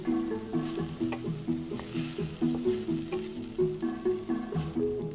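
Onions caramelizing in a pan for a galette filling sizzle steadily while a utensil stirs and scrapes the bottom in a regular rhythm, close and moderately loud with no voices.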